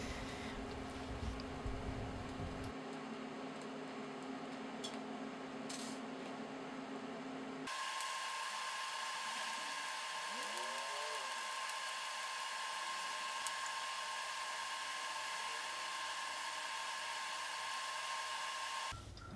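TIG welding on a rotating head stand for a bicycle frame jig, a steady electric hiss and hum that holds evenly across the whole stretch, close and moderately quiet, with a shift in tone partway through.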